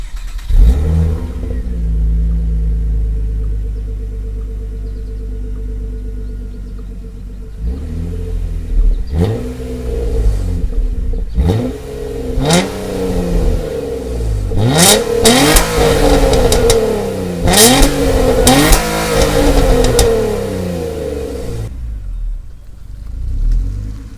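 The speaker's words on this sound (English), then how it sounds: "Nissan gives you just that" A 2005 Nissan Altima SE-R engine idles with a deep, throaty exhaust, then gets blipped through a series of loud, close revs that rise and fall sharply before settling back to idle.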